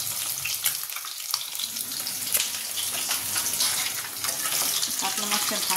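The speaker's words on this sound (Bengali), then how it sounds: "কাতলা মাছটা ভাজতে একটু টাইম লাগে" Pieces of katla fish fry in a pan with a steady, close sizzle, joined by running-water noise like a tap, with no talk.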